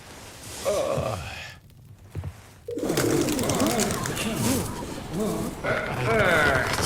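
Pigeons coo in low, throaty bursts close by, with wing and body rustling between calls; a brief quiet gap interrupts the cooing.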